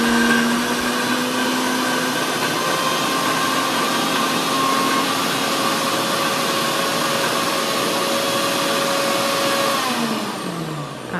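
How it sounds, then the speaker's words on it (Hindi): A Bosch TrueMixx Pro mixer grinder grinding chutney in its jar, a loud, steady motor whir with shifting tone that runs continuously and then winds down near the end. "तो ये देखिए चटनी जिसे मैं पीसना स्टार्ट कर रही हूँ।"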